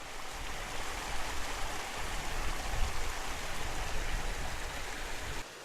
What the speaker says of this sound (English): this little waterfall and the drop off for the big waterfall over there